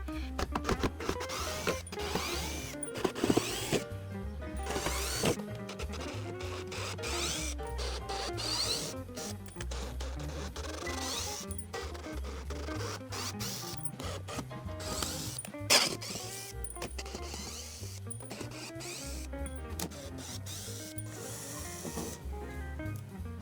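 Unlocking the front of the shipping packaging for a Bulunmaz Doublehead faceting machine, with repeated clicks, ratcheting snaps and scraping handling noises in an irregular sequence, close and moderately quiet.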